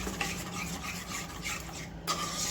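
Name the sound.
stirring halwa mixture in a pan on low heat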